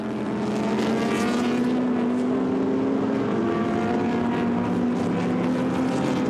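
Classic racing cars thunder around the Silverstone circuit in wheel-to-wheel action, a loud, sustained engine drone with tonal whine holding steady throughout, no voices over it.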